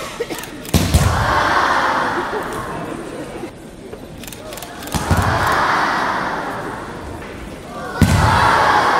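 Judo uchi mata throws during a club training session land on the mat as sharp, heavy thuds about every four seconds, each followed by a brief swell of crowd and hall noise.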